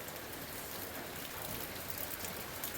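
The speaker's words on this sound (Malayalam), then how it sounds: "പക്ഷെ മഴയാണെന്ന്, അടിപൊളി മഴയാ." Summer rain falling in Kerala, a soft, even wash of drops pattering on surfaces, steady and fairly quiet with no voices.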